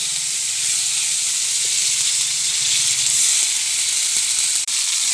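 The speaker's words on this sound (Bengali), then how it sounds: "এরপরে কেটে রাখা টমেটোর টুকরোগুলো তেলে ভেজে নিচ্ছি" Cut tomato pieces fry in hot oil in a kadai, giving a steady, loud, close hiss and sizzle that holds evenly throughout with no talk.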